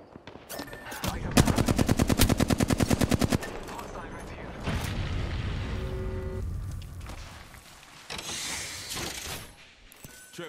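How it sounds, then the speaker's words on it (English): Rapid automatic gunfire in Apex Legends Arenas, a fast burst of sharp evenly spaced shots, followed by scattered single shots, mechanical clanks and game effects, loud and close. "Shots fired at me."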